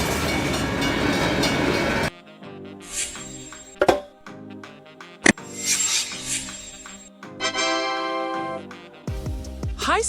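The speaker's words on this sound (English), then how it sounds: "Military train, the battle train. It carries tanks, troops, and gear, like a moving army base on rails." A military battle train carrying tanks, troops and gear rolls along the rails, its sound shifting through several distinct segments with sharp clanks and bangs and stretches of tonal, whining rail noise.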